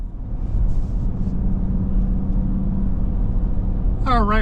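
A 2025 Dodge Durango R/T 20th Anniversary Plus four-wheel-drive SUV pulls away with a low, steady engine rumble heard from inside the cabin, ending with a brief voice.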